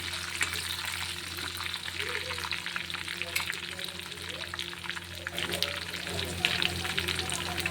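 A bay leaf is stirred in hot oil in a pan while preparing Nagpuri dal kanda, giving a steady close sizzle with soft stirring scrapes throughout.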